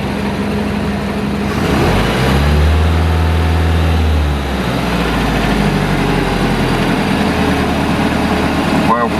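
A boat engine idles with a deep, loud rumble, then briefly rises in pitch as the revs are raised before settling again, with someone talking over the engine noise.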